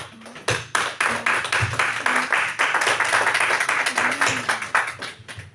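A church congregation applauds together during a French-language worship service, with dense, continuous clapping close by that tapers off near the end, and a few voices rising over it.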